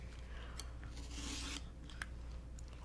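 Quilt fabric being trimmed gives a quiet, brief rasping cut lasting about half a second, with faint handling clicks around it in a calm room.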